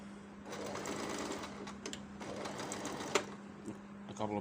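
Sewing machine stitching pieces of a Papua New Guinea meri blouse together, running steadily for several seconds with brief pauses and a few quick stitch bursts near the end, close and moderately loud, with some talk mixed in.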